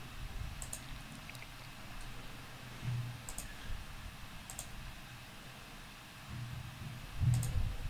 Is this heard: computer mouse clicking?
yes